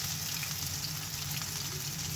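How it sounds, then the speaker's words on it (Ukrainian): Steady, even sizzling of potato pancakes frying in a hot pan, a continuous crackle with no voices. "Гарно воно смажиться, гарно перевертається"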